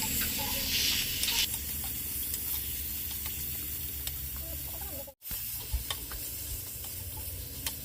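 Chicken pieces sautéed in an uncovered pan in a home kitchen, a continuous close sizzle with scattered stirring scrapes and clicks, briefly cut off for a moment before the frying carries on.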